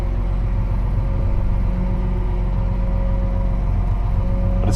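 A tractor engine runs steadily while backing a farm machine into a tight shed behind an auger during spring tillage in Wisconsin, producing a continuous low, loud mechanical drone with no voices.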